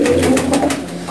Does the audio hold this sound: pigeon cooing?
yes